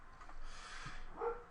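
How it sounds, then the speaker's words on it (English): A dog barks faintly in the background, a few soft, muffled barks and a whimpering yip at a distance, with no voices heard. "You can hear my dog barking in the background."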